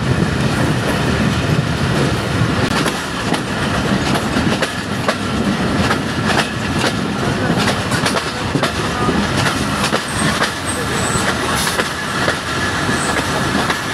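A train rumbles loudly and continuously with rhythmic clacking of wheels on rails and occasional faint squeals, slowing into Abdul Hakim railway station.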